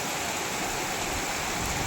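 Heavy monsoon downpour in Pune, a dense, steady roar of rain that fills the whole stretch at close range with no pauses, cutting off abruptly at the end.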